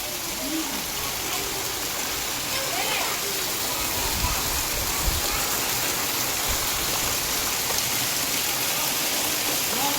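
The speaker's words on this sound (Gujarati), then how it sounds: "બહુ જબરજસ્ત વરસાદ આવી રહ્યો" Torrential unseasonal rain pours down in Kheralu taluka, Mehsana district, North Gujarat, as a dense, steady hiss that fills the air with a low, rushing rumble underneath.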